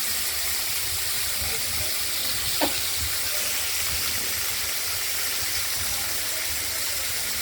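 A steady, soft sizzle of bitter gourd and pumpkin frying in a wok with mustard seeds and green chillies, with a low background hiss and no talking.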